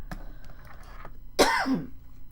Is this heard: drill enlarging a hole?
no